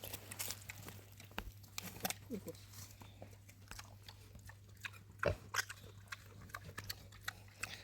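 An animal loudly chomps and crunches on an apple at close range, with irregular wet chewing bites while people talk in the background.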